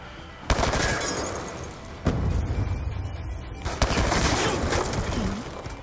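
Gunfire in the Black Ops 2 video game, a few sharp shots cracking at about one-second spacing over a steady bed of game noise and rattling fire, all fairly quiet.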